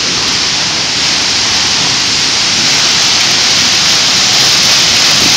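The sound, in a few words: Deer Creek Falls waterfall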